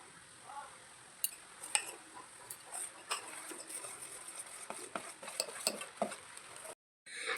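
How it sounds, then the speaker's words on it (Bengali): Palm fritters frying in hot oil, stirred slowly with a utensil: soft crackling sizzle under scattered light scrapes and clinks of metal against the pan, ending in a brief silence. "গরম তেলে দেওয়ার পরে এইভাবে আস্তে আস্তে নেড়ে দিতে হবে"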